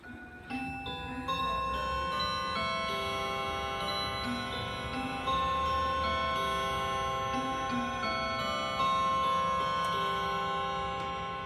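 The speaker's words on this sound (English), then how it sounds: "That's really high pitch for a grandfather clock." A Hermle curio grandfather clock sounds a fairly high-pitched run of ringing chime tones, each note sustaining and overlapping with the next, loud and close with no talking.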